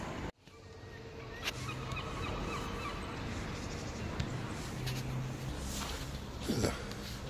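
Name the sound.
mallard ducks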